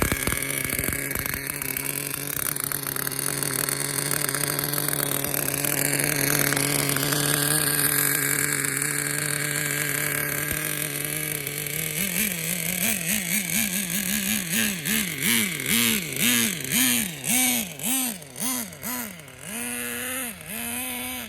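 Traxxas Nitro Bandit RC car's small nitro engine running loud and close, a steady high buzz at first, then rising and falling in repeated revving bursts toward the end, with no talk.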